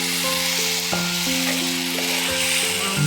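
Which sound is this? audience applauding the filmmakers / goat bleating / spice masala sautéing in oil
spice masala sautéing in oil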